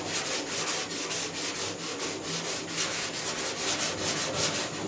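Hand sanding block rubbed over primer-surfacer on the dash of a 1966 Ford F100 truck, making soft rhythmic scraping strokes, repeated steadily and close up, with no talking.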